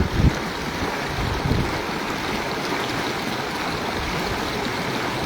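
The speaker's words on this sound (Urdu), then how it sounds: "پانی بہت تیز ہے" Fast rainwater flood of a hill torrent in the Koh-e-Suleman mountains: a continuous broadband roar of rushing water, fairly loud and unbroken, with a couple of brief splashing surges near the start and no talking.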